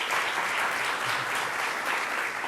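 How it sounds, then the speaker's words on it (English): Dense, even applause from an audience at a governor's address, a continuous wash of clapping with no pauses and no voices over it. "let's give him a round of applause"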